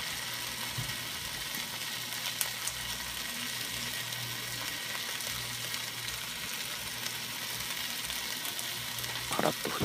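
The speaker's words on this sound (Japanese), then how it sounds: "そしてベーコンを並べて焼いていきましょう。" Bacon strips fry in a pan, laid out for a bento dish, giving a steady, even sizzle with a faint low hum beneath and a few small crackles near the end, with no voices.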